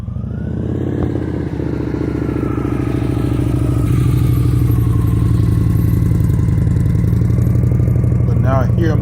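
A motorcycle creeps along at 1-2 mph on a steady throttle with the brake dragging. Its engine gives a constant, close, low rumble with fine clattering pulses, and a voice talks over it.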